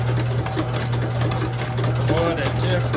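A Guzzler diaphragm pump draws water up under vacuum with its valves wetted. It makes a steady, close mechanical hum with a rapid, even pulsing rhythm throughout.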